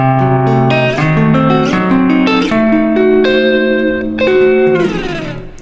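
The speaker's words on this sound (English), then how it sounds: "And the other one is diminished, so it sounds like this" Electric jazz guitar plays a sequence of diminished chords, each voicing ringing out clearly with effects and some reverb, the chords shifting every half second or so before a final strummed chord fades.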